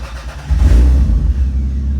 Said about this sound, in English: We replaced that EFI relay and the car starts right up.